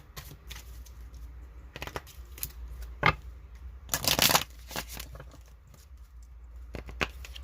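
Chakra Wisdom Oracle cards by Tori Hartman being shuffled by hand: irregular close papery riffles and taps, with a louder burst of rapid card flutter midway, then lighter scattered flicks.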